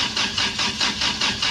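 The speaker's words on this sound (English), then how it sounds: "With the fan off, can Johan finally get some life out of this wood guzzler? Oh, now it comes" A wood-gas-powered pickup truck engine cranks without catching, giving a steady rhythm of about six loud, even pulses that is close and uninterrupted, with no talking.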